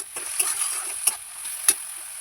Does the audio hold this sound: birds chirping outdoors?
no